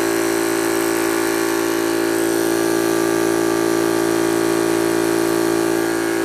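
Yong Heng high-pressure air compressor running at about 38, a loud, steady mechanical drone with a strong constant hum and no break or change, pushing air through a coalescing filter.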